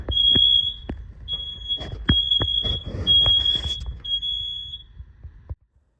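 Old smoke alarms being tested, sounding repeated sharp high beeps in temporal code 3 pattern, three-beep groups with pauses, loud and close, with soft handling knocks underneath.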